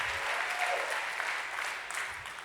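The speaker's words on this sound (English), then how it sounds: "You should clap your hands and shout." A church audience at a sermon claps and cheers in sustained applause. The sound is a dense, steady wash of many hands, moderately distant, with crowd voices mixed in.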